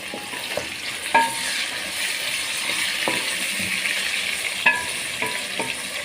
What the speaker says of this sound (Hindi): मैं इसमें टमाटर डालूँगा।